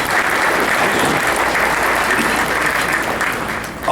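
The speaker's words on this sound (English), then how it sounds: "I think they deserve a round of applause for that" A luncheon audience of a football touchdown club gives a steady, dense round of applause that fills the room at a constant level from start to finish, with no talk over it.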